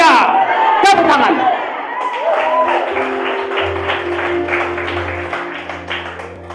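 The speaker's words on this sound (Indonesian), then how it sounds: "Tepuk tangan." Congregation applause during a Christmas church service: a ragged burst of hand clapping builds after an opening shout of voices and continues under a low tonal hum and some vocal sounds, fairly close and moderately loud.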